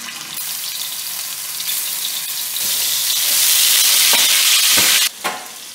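Chicken meatballs dropped into hot oil in a heated sauté pan, a loud continuous sizzle that swells and intensifies as they go in, with a brief clatter near the end.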